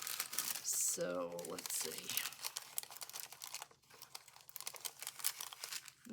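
Craft tape pulled off a roll and torn for an index card project, crinkly ripping and tearing noises, close, mixed with a brief spoken remark and a few sharp higher squeaks.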